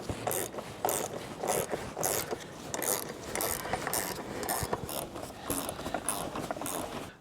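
A hand ratchet tightens bolts while a 270° awning is mounted on a vehicle, giving a steady run of close, crisp clicking strokes in repeated bursts with no talking.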